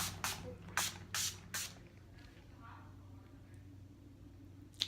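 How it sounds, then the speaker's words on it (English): Four quick hissing spritzes from a makeup setting spray bottle close by, followed by quiet handling sounds and one more brief spray at the end. "I'm going to be using the setting spray just to finish off the look"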